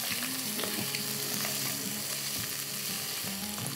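Browned meat and sausage frying in a pot, a steady loud sizzle with scraping stirs and utensil knocks throughout, no talking.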